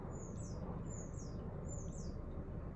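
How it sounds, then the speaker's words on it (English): A pet bird in a living room gives three short, rising chirps about a second apart. They are fairly faint over a steady, loud background hiss, and no one talks. "I swear you'd think there was birds in my living room"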